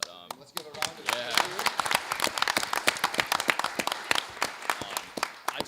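Applause breaks out from an audience at a school board meeting, a sparse cluster of nearby claps that thickens into steady clapping, with voices mixed in beneath.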